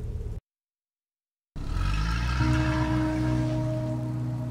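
A car starting up in the video game Hillside Arcade: after a brief silence, an engine turns over and settles into a steady, humming idle with a low drone.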